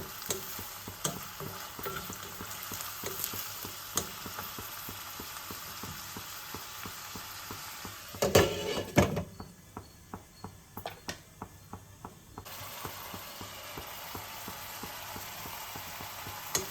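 Potato and tomato curry with onion cooking in a pan, a steady low sizzle with repeated soft stirring scrapes and a brief louder clatter partway through, no voices.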